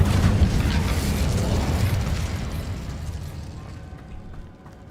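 Incendio fire spell cast in Hogwarts Legacy, a loud burst of roaring, crackling flame that starts at full strength and fades away over several seconds, with no talk over it.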